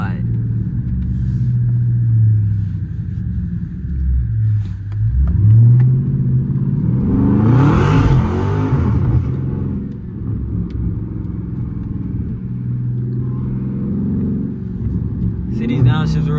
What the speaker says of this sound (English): See these downshifts real quick.